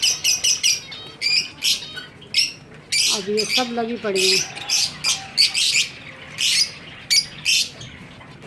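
Strawberry finches and other small cage birds chirp in a new cage, rapid bursts of high, bright tweets repeating close by, while someone talks briefly in the middle.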